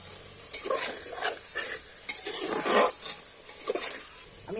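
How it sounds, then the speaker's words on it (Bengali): Onion and spice masala stirred and fried in a pan for mutton curry, with repeated scraping strokes of a spoon over a steady soft sizzle, close and moderately loud. "দেখো কষতে কষতে মশলাটা পেঁয়াজগুলো সব গলেই এসছি"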